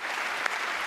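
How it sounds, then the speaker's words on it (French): Audience applause at a prize ceremony in Le Havre for the "Talents des cités" award: a dense, steady wash of many hands clapping, even in loudness throughout the short burst, with no voices over it. "On vous applaudit à nouveau."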